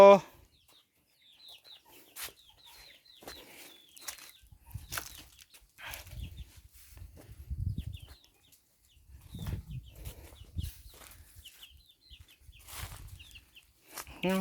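Chickens cluck and chatter intermittently at a moderate distance, with scattered rustling and low handling noises throughout.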